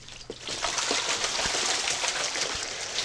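Warm water gushes and splashes steadily into a tub for a Muscovy duck, a continuous close pouring rush with small knocks and bumps, no talk.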